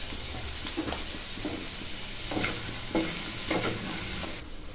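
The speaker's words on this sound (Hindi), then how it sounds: "जब तक आपका ये कैप्सिकम और टमाटर भून रहा है" Capsicum and tomato frying in a pan with salt, a steady close sizzle broken by several light stirring scrapes.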